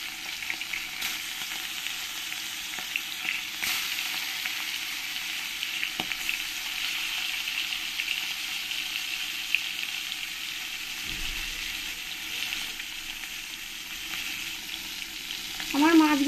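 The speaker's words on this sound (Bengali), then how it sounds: "এই মাছগুলো একটু ভেজে নেব ভালো করে, কড়া কড়া করে।" Rohu fish pieces coated in salt and turmeric fry crisp in hot oil, a steady fine sizzle with occasional pops, ending in a brief louder burst; no one talks.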